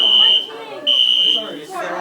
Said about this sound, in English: Since I got to pull the fire alarm,